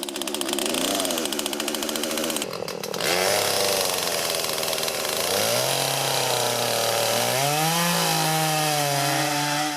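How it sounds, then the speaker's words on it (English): A chainsaw revving and cutting small trees at a clearing site, its steady loud engine drone rising in pitch as the chain bites into wood, with no voices. "got his chainsaw fired up and began cutting some of the smaller trees"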